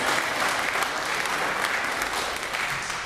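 A keynote audience at an alliance gathering claps: continuous, dense applause from a large crowd at a steady level, with a brief bump at the very end.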